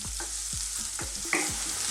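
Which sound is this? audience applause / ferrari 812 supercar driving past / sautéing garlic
sautéing garlic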